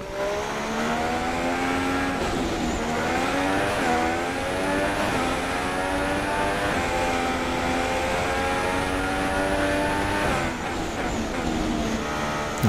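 A Formula 1 race car engine in the game F1 2016, loud and continuous, its high-pitched whine rising and falling through gear changes as the car accelerates and brakes, heard alone without talk.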